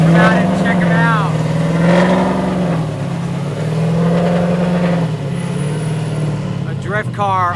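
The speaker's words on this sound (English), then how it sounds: "A drift car on the Big Willow." Drift car engine revving at Willow Springs Raceway on the Big Willow track, a steady loud engine drone rising and falling, with someone talking over it throughout.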